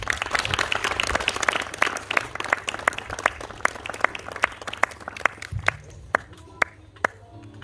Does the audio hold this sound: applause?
yes